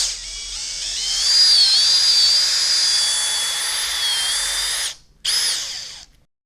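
An electric drill with a paddle whirs steadily as it mixes two-part epoxy tile grout, running loud and close for several seconds, briefly stopping, then restarting for a final short burst.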